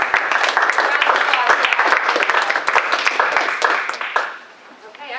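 An audience applauds after a panel discussion, a dense burst of many hands clapping that carries on steadily for several seconds before thinning out and fading near the end.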